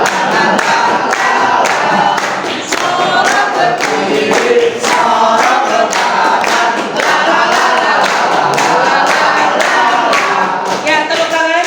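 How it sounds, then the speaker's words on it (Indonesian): A group of children and adults clap their hands together at a field-practice class activity, loud and steady throughout, with voices mixed in underneath. "Ya, tepuk tangan."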